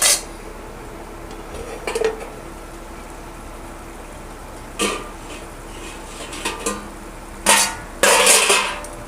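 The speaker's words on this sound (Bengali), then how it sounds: "পাঁচ মিনিট হয়ে গেছে, ঢাকাটা এবার খুলছি।" A metal lid comes off a pot of hilsa pulao with a few loud clanks and rattles against the rim, separated by quieter stretches of low kitchen noise, close by.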